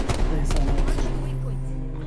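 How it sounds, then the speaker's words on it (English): Video-game gunfire: a quick rattle of shots and thumps at the start that then fades into a low rumble. "Who's shooting?"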